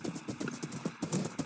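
Horse hooves in the Minecraft video game clop in a steady, quick rhythm of soft, close thuds, with a faint whinny-like tone mixed in.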